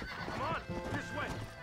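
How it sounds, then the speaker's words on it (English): A horse in the video game Red Dead Redemption gallops with steady clip-clop hoofbeats and whinnies loudly over them, while game voices talk throughout. "Go faster, Warhorse"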